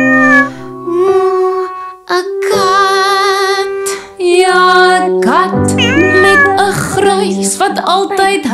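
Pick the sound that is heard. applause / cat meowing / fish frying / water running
cat meowing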